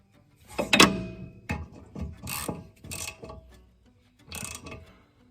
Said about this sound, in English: Putting the old bolts back in. We'll switch the ratchet to on instead of off.